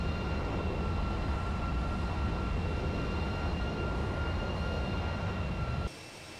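A heavy jet airliner takes off from runway 24 left at LAX, producing a loud, sustained engine roar with a steady tonal whine that cuts off abruptly near the end.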